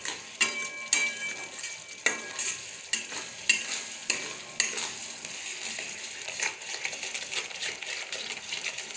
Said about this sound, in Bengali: এটা আমি এখন একটু কষিয়ে নেব